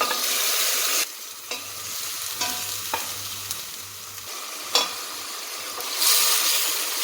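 Peppers are added to browned onions frying in a pot for Erzincan soup, producing a continuous close sizzling hiss broken by several brief stirring scrapes.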